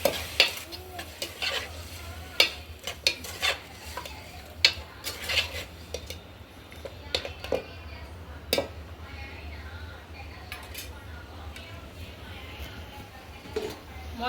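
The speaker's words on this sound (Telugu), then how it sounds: "ఒకసారి తిప్పుకుందాం." Chicken with turmeric and salt is stirred in a pan: repeated scraping clinks of a utensil against metal ring out over a steady low sizzle, fairly close, with a few sharper knocks scattered throughout.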